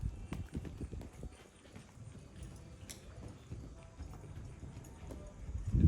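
Horse walking during a riding lesson, hooves clip-clopping in a soft, irregular rhythm, faint and fairly close, with occasional rustles and snorts.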